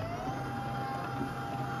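A printer runs while printing a Shopee shipping label, giving a steady mechanical whir and hum at a low, constant level throughout the short stretch, no talk.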